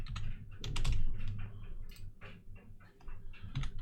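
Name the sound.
someone typing on a computer keyboard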